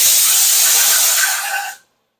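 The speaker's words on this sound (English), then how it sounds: "I was just blowing compressed air at it just to get the coolant away" Compressed air blasting coolant off a freshly machined part, a loud close hiss that holds steady for nearly two seconds and then cuts off abruptly into silence.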